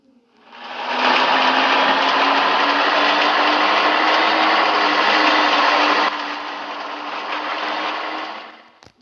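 A bus engine revs hard in a loud, sustained roar, its pitch creeping upward for several seconds before the level drops and eases off toward the end.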